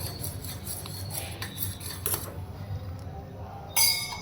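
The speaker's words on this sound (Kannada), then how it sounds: "ಇದನ್ನು ಹಿಂಗೆ ಕಲಿಸ್ತಾನೆ ಇರಬೇಕು" A pot of food boiling on a stove being stirred, with soft scraping and a light clink of a utensil against the pot, close and quiet under a speaking voice.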